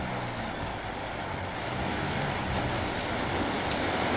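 Truck air brake from a farming simulation game, a steady broad hiss of vehicle and engine noise running the whole time with a faint brief release near the end.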